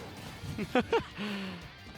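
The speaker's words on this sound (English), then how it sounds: "he hit him with the Steve Classic, F smashing through the wall" In Super Smash Bros. Ultimate, Steve's forward smash lands a heavy hit through a wall, giving a pair of quick crunching impacts followed by a short ringing tone, fairly quiet under commentary.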